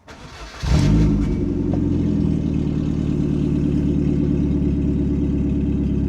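An MG ZR car engine cranks briefly and catches with a sharp burst, then settles into a steady, close, loud idle with a low rhythmic hum, no voices.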